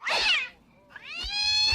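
A cat lets out two loud, close, strained meows after being thrown, in a film scene: a harsh wailing cry, a short pause, then a longer drawn-out yowl.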